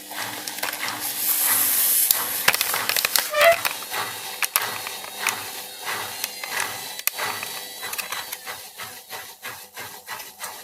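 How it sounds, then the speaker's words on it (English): Relays on a Beko EcoCare WM1512S washing machine main PCB click sharply and repeatedly, close and distinct over a steady hiss, as the motor reverses direction. "you can hear the relays click as it swaps over the polarity between the stator and the rotor"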